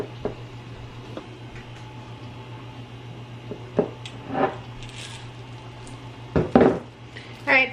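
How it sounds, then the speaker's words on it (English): Chocolate muffin batter is spooned into metal muffin tins, making sparse, quiet clinks and soft wet taps with gaps of near silence in a quiet kitchen. "I'm just gonna fill the muffin tins now with the chocolate muffin mix."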